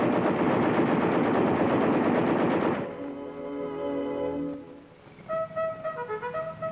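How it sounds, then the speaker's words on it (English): The machine guns of an M-60 tank fire a sustained, loud rapid burst that cuts off abruptly, followed by a calm spoken narration with music beneath. "A computerized fire control system brings the full fury of the tank's guns on any target with telling speed and accuracy."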